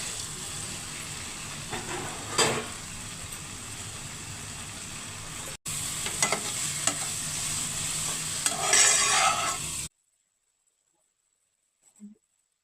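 Okra pieces cook in a tomato masala and are stirred, giving a steady sizzle with occasional spoon scrapes that cuts off abruptly into near silence for the last few seconds.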